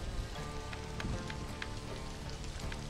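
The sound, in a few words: rain in video game Stranded: Alien Dawn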